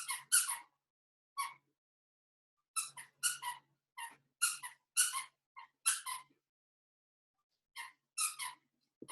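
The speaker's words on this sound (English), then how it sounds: "that's my dog squeaking her toy" A pet dog chomps on a squeaky toy, producing sharp, high squeaks in quick clusters of two to four, separated by short silences, fairly close and alone.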